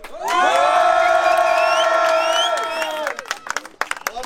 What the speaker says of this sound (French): l'enfant du Mac, Wheelchair, maximum de bruit pour eux deux